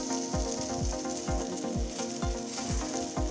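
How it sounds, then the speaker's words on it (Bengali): Cauliflower fries in a pan in quiet, steady sizzling with a regular series of soft stirring strokes, close and fairly faint. "ফুলকপিটা যতক্ষণ একটু লাল লাল না হবে ততক্ষণ কিন্তু ভালো করে ভেজে নেব।"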